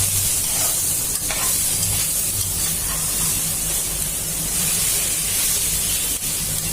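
Vegetables for chow mein sizzle and fry in a hot pan, a loud continuous crackling hiss with occasional stirring scrapes, close and steady throughout.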